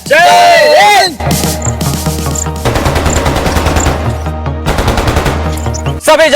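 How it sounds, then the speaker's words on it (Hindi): Loud machine-gun fire rattles in rapid repeated bursts in a sound-effect scene of a terrorist attack in the valleys, with short gaps between volleys and a brief tonal sound at the start. "मुझे घाटियों में गोली चलने की आवाज सुनाई दे रही है।"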